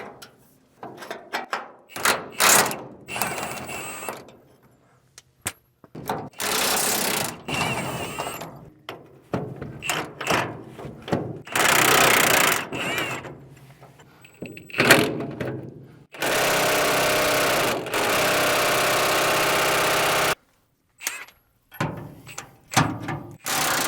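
A big impact wrench works on U-bolts on a semi truck frame, firing in repeated loud rattling bursts of varying length separated by short silences, with one long sustained hammering run near the end.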